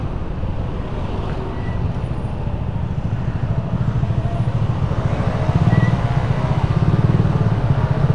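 Riding a motorcycle on a road trip to Cianjur, Indonesia: a steady, loud engine drone mixed with rushing wind buffeting the microphone, building slightly toward the end.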